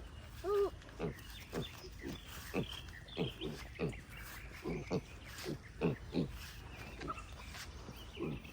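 Pigs grunt and snort in short, uneven bursts at a farm supply store, fairly close, with several overlapping animals and a quiet room hum behind them.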